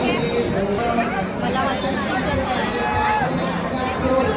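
Dense crowd packed onto the steps of a Varanasi ghat during the evening Ganga aarti, a steady wash of overlapping voices and chatter with no single speaker standing out.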